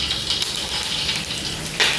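Curry leaves sizzle in hot oil for a crab fry, a steady broadband crackle and hiss throughout with a brief louder spurt near the end.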